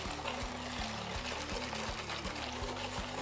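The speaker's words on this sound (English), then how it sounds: "into our egg and sugar mixture, we're going to put our heavy cream and vanilla that has been cooling for 15 minutes into" Heavy cream with vanilla is poured through a sieve into an egg and sugar mixture, a soft trickle heard faintly under a louder low, rhythmic mechanical hum.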